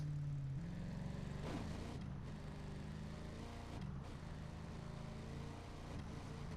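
A faint, steady vehicle engine hum from the video game Ghost Recon Breakpoint drones on, its pitch shifting slightly now and then. It sounds smooth rather than heavy, like an electric car. No voices.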